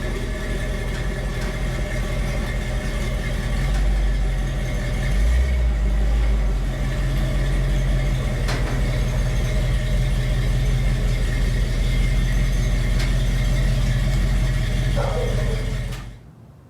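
A 1970 Ford F250 pickup with a camper shell runs steadily while backing up, a close, even engine drone with slight rises in load, then cuts off abruptly near the end.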